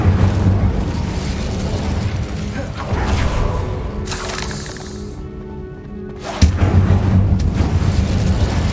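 An Incendio fire spell cast in the video game Hogwarts Legacy, a loud whooshing burst with crackling, shattering impacts over a dense rumbling game soundscape, followed by a sharp renewed blast near the end.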